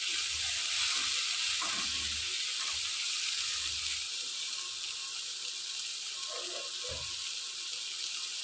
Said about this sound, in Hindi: एबे ग्रीन मटर पकई नबा।